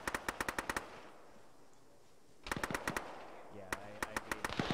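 A DShK heavy machine gun fires in a combat video game: rapid bursts of loud, evenly spaced shots, then a pause before more bursts, with faint radio chatter between them.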